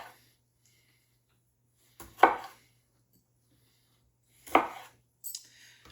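Tomatoes are cut in half with a knife for a hearty lasagna, giving two distinct chopping strikes about two seconds apart and a faint third knock at the end, all in a quiet kitchen with no talking.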